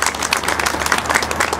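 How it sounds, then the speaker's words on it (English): Crowd applause at a ceremony honoring Filipino veterans, loud close clapping with distinct individual claps flickering through a steady, dense roar. "Let's give a big round of applause."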